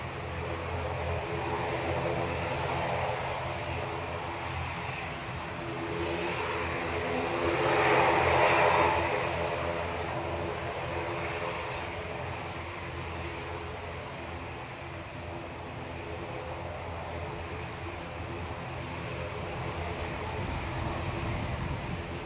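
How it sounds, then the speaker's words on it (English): Distant ATR 72 turboprop at Manchester Airport, its engine drone swelling to a peak midway and then fading, largely masked by steady wind noise. "The wind keeps blowing the sound of the ATR 72 away."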